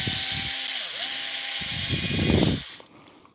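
A power driver whirs steadily while backing out the forward screws on a HoBao Hyper MT Sport RC truck, its motor pitch dipping and rising, then cutting off near the end.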